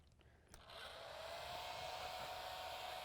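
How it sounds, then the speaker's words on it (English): A blow dryer switches on after a short pause and blows continuously with a loud, steady airy roar, used to push a kite into flight. "I think I'm going to grab my blow dryer as well."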